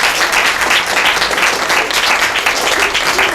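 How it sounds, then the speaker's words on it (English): Audience at a 2023 WRAAP graduation ceremony applauding, a dense, loud, steady wash of many hands clapping throughout. "give yourselves a round of applause"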